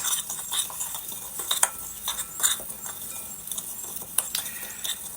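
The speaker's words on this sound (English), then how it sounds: "Now, time to mix." Tomatoes being tossed with sugar in a bowl, giving a run of light utensil clinks and wet stirring scrapes at close range, irregular and fairly quiet, with no talk.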